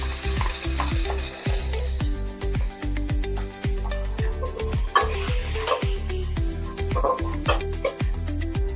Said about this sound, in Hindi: उसी तेल पे ये झींगा ऐड कर देंगे फ्राई करने के लिए।